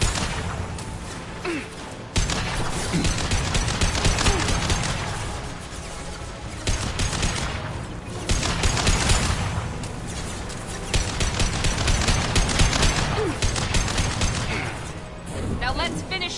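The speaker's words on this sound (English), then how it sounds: "Shotgun!" Shotgun blasts in Mass Effect combat, heavy repeated bursts and crashing impacts filling the mix at close range, with voices talking over the game action throughout.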